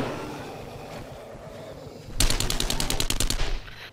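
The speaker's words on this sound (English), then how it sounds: "Seems like a little burst from the SMG and the old shot from the sniper rifle" Gunfire in the 7 Days to Die video game, starting with a low ambient rumble, then a rapid burst of loud, evenly spaced shots from an SMG that lasts over a second before cutting off, close and sharp.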